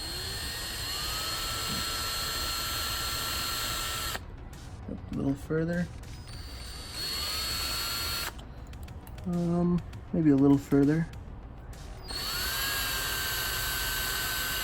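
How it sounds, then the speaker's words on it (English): A high whining power drill runs steadily, drilling out a metal rivet on a Lesney Matchbox #35 Snow Track toy, stopping twice while a person speaks briefly, then starts up again. "today I rigged up the camera to show you me drilling out the rivet"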